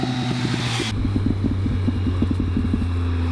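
A Triumph Speed Triple 1050 motorcycle engine running at low revs, a steady throbbing idle with a rhythmic burbling pulse, heard close, with wind rush cutting out early.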